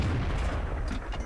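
A tank cannon fires in World of Tanks gameplay, a heavy low boom with a rumbling tail that fills the whole moment, loud and close with no talk over it.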